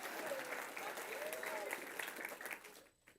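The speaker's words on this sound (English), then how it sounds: "we can applaud for Doug." An indoor audience at an announcements gathering claps steadily for about two and a half seconds, then the applause thins and stops.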